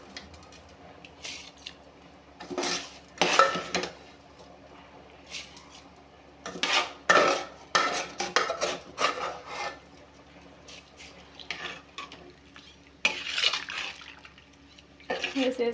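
Washed rice being stirred and mixed in a pot gives scraping, rasping bursts of grains against the metal, coming in several irregular strokes with quieter gaps between them.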